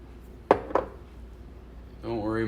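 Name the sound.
measuring spoon clinking while adding celery seed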